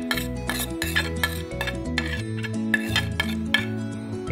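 A utensil stirs sliced onion and chili labuyo in a pan for pork sisig, producing repeated metallic clinks and scrapes in an uneven rhythm against a faint background, close and clear with no talk.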